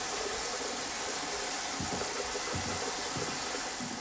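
Water drains steadily from a water heater through an opened hot tap, a continuous broad rushing gush with faint low knocks underneath, close and fairly loud.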